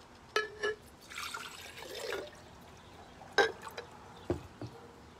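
Water is poured into a container of river macroinvertebrates during an outdoor stream study, coming as a few short splashy pours and drips with gaps between them, close and moderately loud with no talking.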